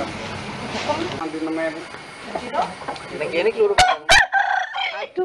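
A rooster crows loudly and close by in a few sharp bursts near the end, following a stretch of people talking.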